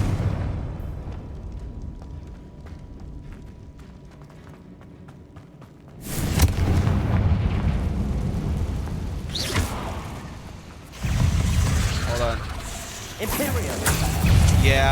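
Confringo fire-spell blasts in the Hogwarts Legacy video game burst in as loud, broad booms around the middle and again near the end, over a rumbling game background with a voice talking.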